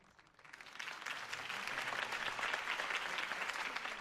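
Virtual crowd at a political rally in a Batman Telltale game breaks into applause, swelling from quiet to a sustained, dense clapping that holds steady.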